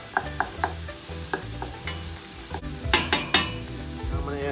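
Garlic with onion sizzling in a pan as a base for Italian meatball sauce, with a crackling fry under soft rhythmic tones and several sharp spoon-against-pan taps and scrapes, no speech.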